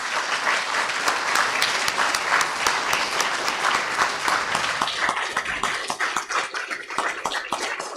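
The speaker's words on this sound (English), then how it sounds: "let's give our Eagle Scout one more round of applause." At an Eagle Scout Court of Honor, a crowd gives an Eagle Scout a warm, steady round of applause, dense clapping that holds for several seconds and then thins toward the end.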